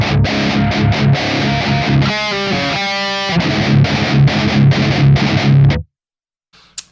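A distorted electric guitar plays a fast galloping metal riff, tight palm-muted triplet chugs broken by a brief ringing passage, loud and alone before stopping suddenly.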